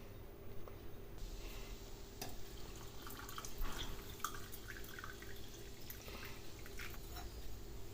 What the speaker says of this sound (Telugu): ఇప్పుడు కొద్దిగా మనం వాటర్ వేసి కలుపుకుందాము.